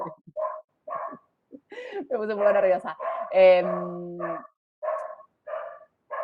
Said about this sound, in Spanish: no para de ladrar mi perra